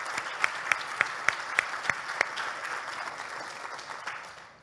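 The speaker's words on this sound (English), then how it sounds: "I'd like a round of applause for these gentlemen," Applause from a conference audience at a water operators' event, a fairly quiet wash of clapping with several sharp, evenly spaced louder claps near the start before settling into a softer, fading patter.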